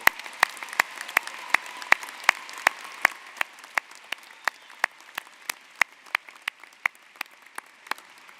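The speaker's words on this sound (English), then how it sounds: "I propose a round of applause for everyone who contributed to the success and achievements of our graduates." Sparse applause at a university graduation ceremony, a few distinct sharp claps in steady rhythm over a faint hall ambience, fairly distant.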